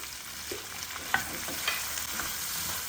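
Goat meat asun is stirred in a hot pan, a close, steady sizzle broken by soft scraping strokes and a light utensil tap, with no voices.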